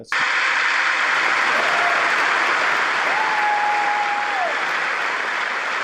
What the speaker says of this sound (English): did I leave in some applause here?